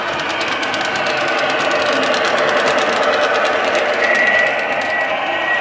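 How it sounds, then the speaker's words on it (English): A Lionel O scale model locomotive rolls along the track in a steady, continuous mechanical whir and rumble with a constant, close motor hum and faint rhythmic clatter, no talking. "And then here comes our locomotive."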